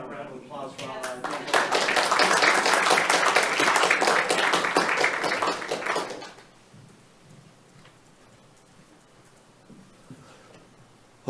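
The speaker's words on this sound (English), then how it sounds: "I want a round of applause for all our" At a Humboldt County Board of Supervisors meeting, a roomful of people claps in a brief, crisp burst after a few scattered early claps. It cuts off abruptly into quiet room tone.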